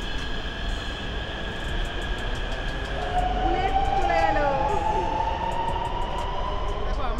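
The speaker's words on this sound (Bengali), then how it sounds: "এই মুহূর্তে কিন্তু ট্রেনটা প্ল্যাটফর্ম ছেড়ে দেবে" Namo Bharat rapid rail train pulling away from a platform, a steady rumble with a rising whine as it picks up speed and high squeals from the wheels, while people talk over it.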